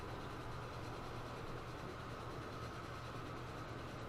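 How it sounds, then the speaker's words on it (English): A freight train in Transport Fever 2 carrying planks from a sawmill to a steel factory rumbles steadily throughout, a continuous dense rolling rail noise with no talk over it. "So there is a freight train that runs up and down here that delivers planks from the sawmill up to the steel factory"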